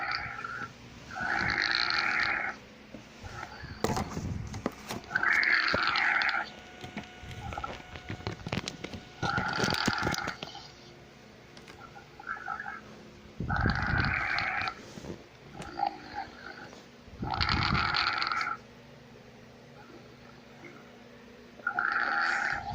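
A woman snoring loudly in long, rough, gobbling bursts that repeat every few seconds, close and harsh, with quiet breathing gaps between them.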